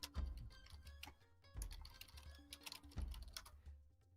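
Rapid clicking keystrokes on a computer keyboard rattle in quick, uneven bursts, close and fairly quiet, with no voices over them.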